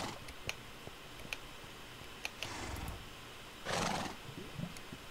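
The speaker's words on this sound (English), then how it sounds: "Oh, I got a baby horse!" A baby horse in Minecraft gives a short whinny, with a few scattered clip-clop hoof taps and clicks around it in a quiet game setting.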